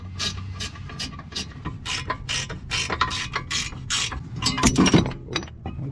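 A hand ratchet clicks rapidly and steadily while loosening the center hub nut on an Integra's wheel hub during brake and rotor work, with bursts of close, metallic pawl clicks throughout.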